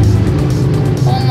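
Motor vehicles rumble past on a busy street in a steady, loud low drone, with a brief higher whine near the end, and voices mixed into the noise.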